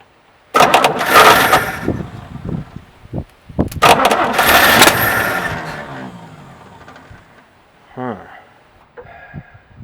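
A 1967 Chevy C10 truck parked for 23 years cranks and catches, its engine roaring up loudly for several seconds, then sputtering and fading, followed by a brief second crank near the end; someone talks over parts of it.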